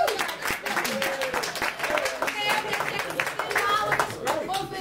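Audience members clap in scattered, sharp bursts at a business presentation, heard under a man's steady, talking voice throughout.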